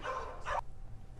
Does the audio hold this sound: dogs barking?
yes